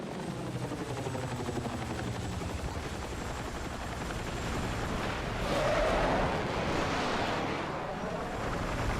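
A Little Bird helicopter arriving in a military video game, a loud continuous rotor thump and engine roar that swells closer near the middle, with faint distant gunfire mixed in.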